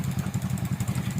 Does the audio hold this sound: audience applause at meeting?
no